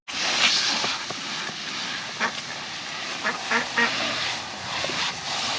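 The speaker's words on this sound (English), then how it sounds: "But the ducks are happy." Ducks at a mobile coop on fresh grass, with a small pool, quack in scattered bursts over several seconds, moderately close against a background hiss.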